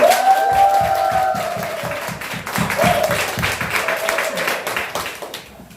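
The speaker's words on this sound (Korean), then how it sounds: "우리 대표님께 다시 한번 큰 박수." A crowd at a detox camp event claps rhythmically in a loud burst of applause, with a voice rising over it at the start and then fading.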